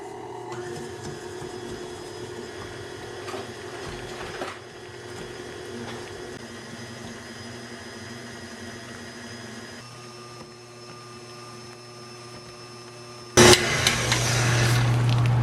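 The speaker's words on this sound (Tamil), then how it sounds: "இந்த விஸ்கை போட்டுட்டு நல்லா க்ரீமியாக பீட் பண்ணி எடுப்போம்." An electric whisk beats a brown sugar mixture for a moist chocolate cake until creamy, giving a steady motor whine that runs throughout and jumps abruptly louder near the end.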